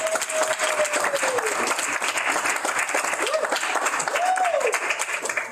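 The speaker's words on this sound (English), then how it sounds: "Let's give them a round of applause." An audience at a launch event for a tide chart and grower's calendar applauds the science communication team, dense even clapping throughout with a few voices and a brief whistle-like call rising over it.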